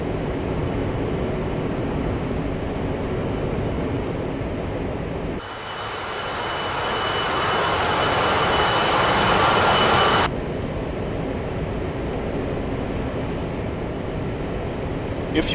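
Background engine noise inside an A-10C cockpit in a flight simulator game: a continuous rumbling drone with no talk. The middle stretch turns brighter and more hissing for several seconds before the steady rumble returns.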